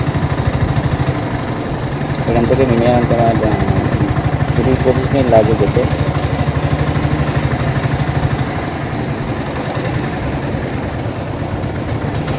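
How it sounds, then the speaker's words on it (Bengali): An engine van, a motorised rural cargo van, runs with a steady low throbbing drone throughout while someone talks over it near the microphone. "Engine van."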